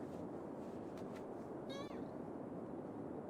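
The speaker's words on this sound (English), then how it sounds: "That's White Cat" A white cat gives a single faint meow, briefly rising above a steady background wash of ambient noise.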